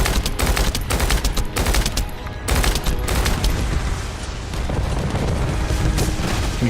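Rapid bursts of gunfire from a sci-fi looter shooter, The First Descendant, fire almost without pause, loud and dense with heavy booming impacts and a brief lull near the middle.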